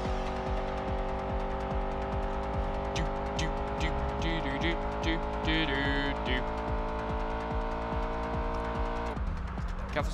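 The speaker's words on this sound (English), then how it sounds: "Weaving in and out between the cars there." Race cars in Test Drive Unlimited on PS2 roar continuously at high revs, with shifting engine pitch and brief tire squeals as traffic is weaved through, loud and close throughout.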